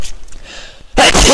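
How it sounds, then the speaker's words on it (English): A single sharp human sneeze bursts out loud and close, alone after a brief quiet stretch, recorded over video game commentary. "sneeze."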